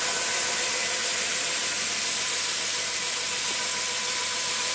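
Steam rushing out of a steam boiler during a test burn as it runs low on water, a loud, steady, broadband hiss that holds unchanged throughout, close up, with no voices.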